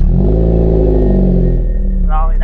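A Chevrolet Cruze fitted with an aftermarket exhaust idles and revs steadily, its low engine drone loud and close, with a brief rising note near the end as the pitch climbs.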